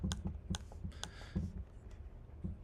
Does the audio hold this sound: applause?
no